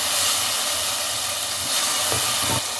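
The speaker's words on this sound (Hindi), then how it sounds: "इसमें 1 टेबल स्पून लहसुन अदरक पेस्ट वो डाल के इसको लहसुन अदरक पेस्ट को भी भून लें" Minced meat sizzles in a pan with garlic ginger paste for a keema pulao, a loud, steady frying hiss heard up close with faint stirring underneath.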